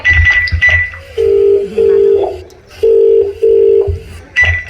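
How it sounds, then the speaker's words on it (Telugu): A phone's ringback tone repeats in steady pulses, interrupted by short dialing beeps, loud and close, with no one picking up. "ఏంటి నాన్న ఫోన్ లిఫ్ట్ చేయట్లేదు?"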